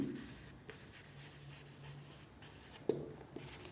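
Chalk or marker scratching across a board in a maths lesson, quiet and intermittent with soft strokes and a sharper tap near the three-second mark, in a hushed room without talk.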